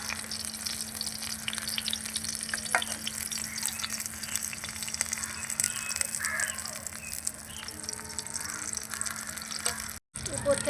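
Ladle of tomato and egg batter frying in a pan, a soft steady sizzle under faint background noise, with crows cawing and a voice speaking at times.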